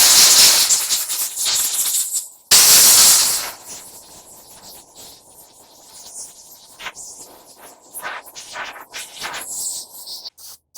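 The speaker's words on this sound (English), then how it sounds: "Throw some compressed air in there." Compressed air blasts into a motorcycle part to clear out dirt and gunk: two loud hissing bursts in the first few seconds, followed by quieter intermittent hisses and light handling noises.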